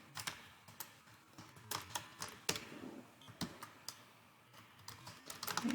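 Keys clack on a computer keyboard in short, irregular bursts of quiet, close taps with brief pauses between them.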